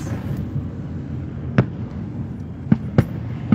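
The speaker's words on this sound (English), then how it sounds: "Disney's gonna cover it up with some fireworks." Fireworks near Disney in Orlando, Florida, pop as about four sharp, fairly distant bangs spaced irregularly over a low, continuous rumble.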